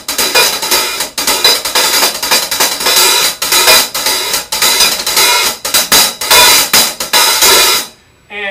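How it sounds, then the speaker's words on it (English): A drum-kit hi-hat struck with two sticks gives dense, bright metallic chick patterns in quick, uneven rhythm, played loud and close with short open washes, then cuts off abruptly near the end. "it can be played with sticks, or it can be played with two sticks"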